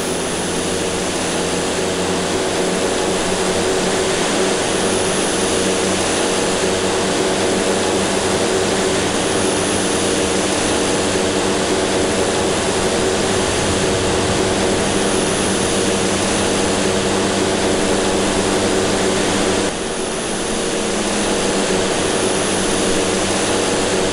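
Cessna Caravan turboprop taxiing onto runway 09 at Marsh Harbour and taking off, a loud continuous engine and propeller roar that holds steady throughout, with a slight dip and shift near the end.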